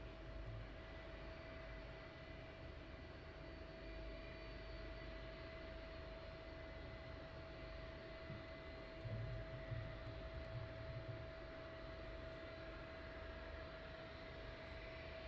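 Aircraft at East Midlands Airport at night make a steady, distant engine roar with a constant whine, a low continuous drone that swells slightly partway through.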